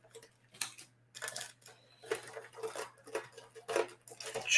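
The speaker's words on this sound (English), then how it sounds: "I'm actually going to shuffle these again" Yu-Gi-Oh! trading cards shuffled by hand in quick, uneven bursts of soft riffling clicks and patters, close and fairly quiet, with short pauses between bursts.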